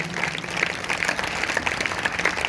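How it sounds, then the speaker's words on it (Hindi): A Sunday church congregation claps hard and continuously, producing a dense, even roar of many hands with no pauses through the short stretch. "अगर आए हैं तो जोरदार तालियां बजाएंगे, जोर से जोर से जोर से।"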